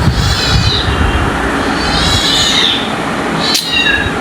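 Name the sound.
cat meowing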